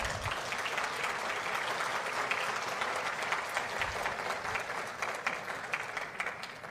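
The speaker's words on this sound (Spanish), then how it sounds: "a quien pido un fuerte aplauso" Sustained audience applause at a presidential pre-candidate debate congress in Arequipa, a steady wash of many people clapping from across a hall, moderately distant and continuous throughout.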